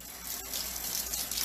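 Running tap water rinsing a lamb steak in a sink, a steady close splashing stream with no voices.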